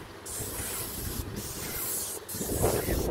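A paint sprayer coats a farm shed with a continuous, close hiss that breaks off briefly two or three times between passes, over a low rumbling background, with no talking.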